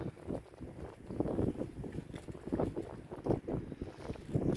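Choppy wind sweeps across a carp fishing lake at Norton Disney, producing a continuous low rumbling buffet against the microphone that rises and falls in gusts, with no voices.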